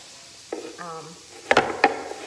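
Onions sautéing in a pan for tomato gravy, with a low sizzle beneath a brief voice and then a few sharp utensil clatters against the pan.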